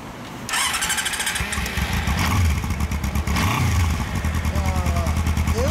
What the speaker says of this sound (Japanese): 400のエンジン音聞かせてもらえますか？